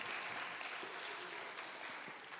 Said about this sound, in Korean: 우리 하나님께 박수의 영광을 올려드리겠습니다.